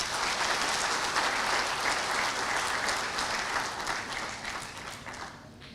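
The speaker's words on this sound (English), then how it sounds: "all of you deserve a huge round of applause" A convocation audience gives a continuous round of applause, dense and even throughout before tapering off in the final second.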